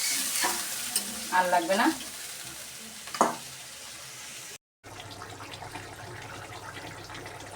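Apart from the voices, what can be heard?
water added to fried spice masala for fish curry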